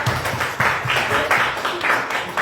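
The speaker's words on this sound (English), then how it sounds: "I don't know what you're clapping for." Audience members at a journalism conference clap in a thin, scattered way, a few hands slapping in an uneven rhythm that stays fairly close and moderately loud.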